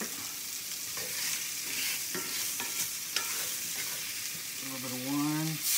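Mushrooms fry quietly in a pan of meat drippings left from hanger steak, a soft continuous sizzle broken by a few stirring clicks, with a brief voice-like hum near the end.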